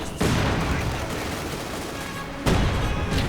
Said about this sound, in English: Lots of Maxims, lots of mortars firing.